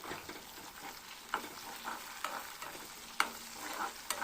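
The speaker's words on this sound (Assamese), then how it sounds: "অলপমান তেলত যে ইয়াতে ভাজি ল'ম" Raw, unboiled potatoes fry in a little oil in a pan for a fish curry, with a faint, quiet sizzle broken by a few sharp spatula clinks and stirring scrapes, with no voices.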